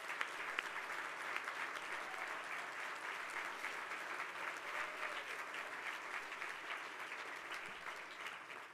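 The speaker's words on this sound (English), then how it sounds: "get a round of applause from all of you" Audience applause at an awards ceremony, a continuous even wash of many hands clapping for the full stretch, fairly distant and soft in level.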